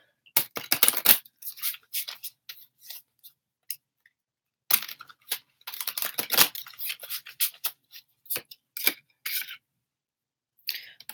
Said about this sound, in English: just shuffling the cards for you